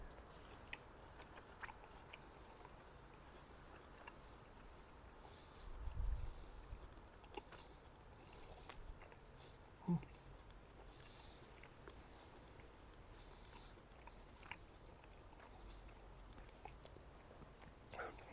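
Close, faint chewing of a medium-cooked bite of steak that was cooked from frozen on a flat top: soft, moist mastication with one small crunchy bite partway through, no talking.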